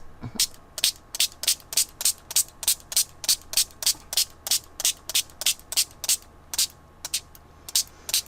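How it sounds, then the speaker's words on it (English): Rapid, regular bursts of a spray bottle misting water onto parchment paper, about two or three squirts a second, close and crisp, with no talking. "now I have to use the spray bottle because I ran out of water"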